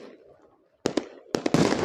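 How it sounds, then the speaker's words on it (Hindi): Diwali fireworks and firecrackers burst in sharp, loud cracks, first two quick pops, then a rapid cluster merging into crackling after a quieter stretch of faint background noise. "वातावरण धूम धड़ाकों की आवाज़ के साथ तो गुंजायमान है ही है, साथ ही ये आतिशबाजी आसमान को सुशोभित कर रही है"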